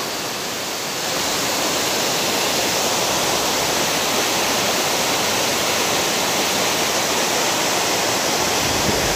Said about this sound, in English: That's one beautiful waterfall.